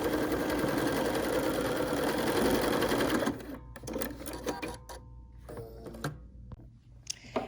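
A Bernina sewing machine stitches steadily at speed for about three seconds, then slows into short bursts and single stitches, close and clear with no talk.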